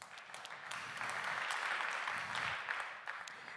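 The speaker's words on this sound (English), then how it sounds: "Let's have a round of applause for DevOps, eh?" Conference audience at a DevOpsDays talk applauding, a steady wash of many hands clapping that swells in the middle and fades slightly, heard from a distance without speech over it.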